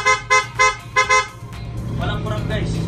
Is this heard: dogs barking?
no